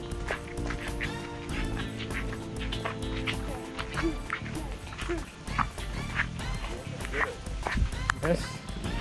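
A dog barks several times in short yips on a beach trek near Kudle beach in Gokarna, mixed with people talking and outdoor ambience.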